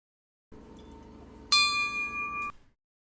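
A ring tone preview plays as a single bright, bell-like chime lasting about a second, preceded by a faint low hum and cut off abruptly.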